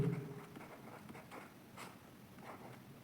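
Chalk or marker scratches across a board in short, uneven strokes, soft and close with a faint background hiss.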